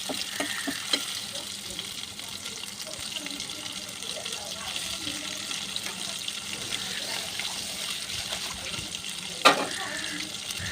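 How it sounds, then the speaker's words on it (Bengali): Four chicken leg pieces frying in hot oil, a steady broadband sizzle running throughout with soft scrapes and one sharp clink near the end; no talking. "এখন তুলে নিয়ে আরও 4 পিস লেগ পিস দিয়ে নিয়েছে, এগুলোও সেম আগের মতো করে ভাজতে হবে।"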